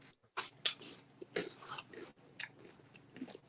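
Close, crunchy chewing of chips, with irregular bites and munching noises and soft breathing between them.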